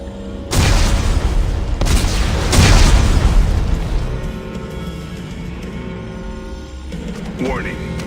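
Explosive charges go off in Dead Space 3, three powerful close booms in quick succession, then a rolling rumble that slowly fades, with faint mechanical clanks toward the end.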